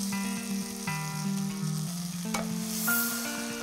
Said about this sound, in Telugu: బీన్స్ వేసేసుకుంటున్నాను. ఫ్రై చేసేసుకుందాం.